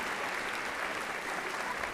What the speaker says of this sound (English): Please join me in giving another round of applause to McGarvin Orchestra